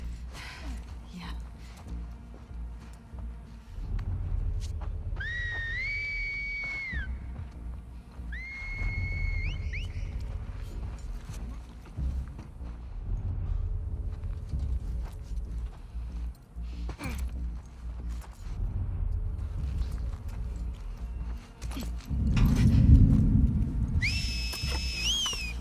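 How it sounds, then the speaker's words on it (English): Enemy whistles in The Last of Us Part II, three rising, sliding tones that hold and repeat at intervals, clear over a low rumbling game ambience with a burst of louder noise near the end. "Sounded like an aggressive whistle."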